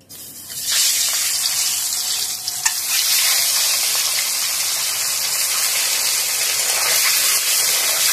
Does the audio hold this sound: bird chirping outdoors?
no